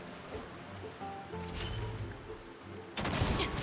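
Musket-style gunshots in Genshin Impact's Roses and Muskets event, a few sharp cracks at separate moments over quieter game ambience with faint effects.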